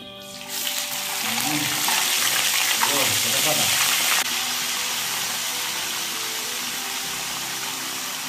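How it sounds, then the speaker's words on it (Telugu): Washed chicken pieces for a chicken curry drop into hot oil and set off a loud, close, steady sizzle. The sizzle swells at the start and holds, with some stirring. "ఇగో ఇప్పుడైతే మనం చికెన్ వేయాలండి"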